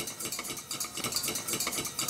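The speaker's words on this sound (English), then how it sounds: "melt your butter in the pan, add your flour, and work your roux." Butter and flour roux being worked in a pan, giving a steady, fairly quiet rhythmic scraping and stirring with soft sizzle, repeating several times a second and heard alone.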